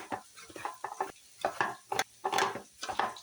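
Spiced potatoes with turmeric and red chilli powder being stirred and fried in oil, giving a run of irregular scraping and sizzling bursts up close, with no talking.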